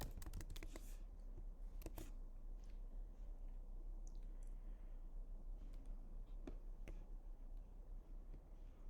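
Keys on a computer keyboard tapped in short irregular bursts, with a quick cluster of clicks at the start and scattered single taps later, close and fairly quiet over a steady low hum, no voices.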